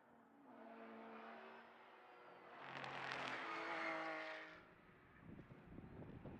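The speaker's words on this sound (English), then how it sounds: "there is one of the other Porsche Cup cars just coming up over the crest" A Porsche Cup race car at the Mugello circuit engine drone swells as it comes over a crest, rising to a louder, brighter roar in the middle before fading, heard at a moderate distance with no talk.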